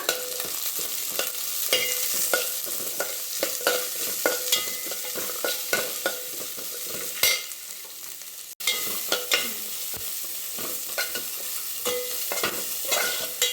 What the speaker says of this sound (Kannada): ಜೀರಿಗೆ ಸ್ವಲ್ಪ ಮೆಣಸು ಇದಿಷ್ಟು ಹುರ್ಕೊಂಬಿಡೋಣ